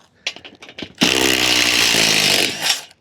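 Power tool drives a lag screw into a roof truss during solar system removal. A few faint clicks come first, then a loud sustained grinding whine for about a second and a half, which eases off as the screw seats.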